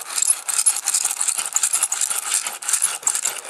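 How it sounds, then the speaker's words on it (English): A carpet tractor is pushed along a glued carpet seam, giving a steady, close, bright scraping rattle with fast rolling ticks that never lets up, and no talking. "And you take this thing called the carpet tractor."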